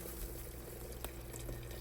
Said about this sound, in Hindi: उसके बाद इसके अंदर थोड़ा थोड़ा करके गर्म पानी शामिल किया।